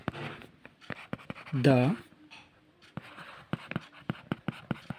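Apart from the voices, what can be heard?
writing out a math solution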